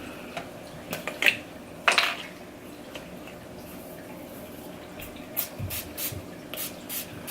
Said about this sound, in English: I like to spray the brush when I'm highlighting because it makes the color more vibrant.